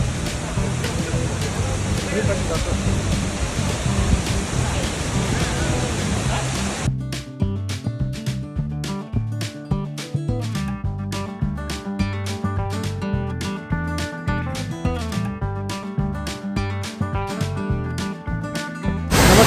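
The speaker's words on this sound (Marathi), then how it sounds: "या कोलटंबे गावाचा हा आहे वसुंधरा वॉटरफॉल" The Vasundhara waterfall at Koltembe near Bhandardara roars as a dense, steady rush of falling water for about seven seconds, then cuts abruptly to a quieter, rhythmic musical backdrop.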